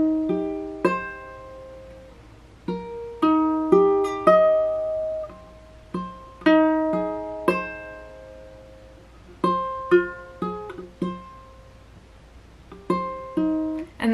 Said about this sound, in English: I just individually pluck each of these strings.